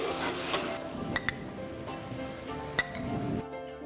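Chicken and broad beans fry in a pan in a TV kitchen, giving a steady close sizzle with a few sharp metallic clinks of the utensil against the pan before it cuts off abruptly.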